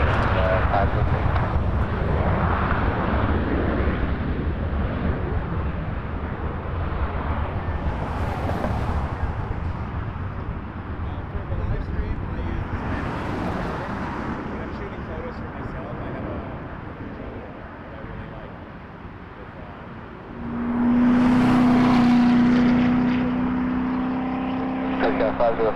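An Air Canada airliner takes off at Toronto Pearson Airport with a loud, steady engine roar that fades gradually, then swells again near the end. Radio voices sound at times under the roar.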